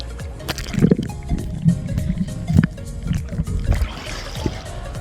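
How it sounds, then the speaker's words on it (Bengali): A person ducks under sea water while bathing at Kuakata beach. Muffled close gurgles, squishy bubbling and small splashes rise and fall in irregular bursts. "তো চলুন আরেকবার ডুব দেওয়া যাক"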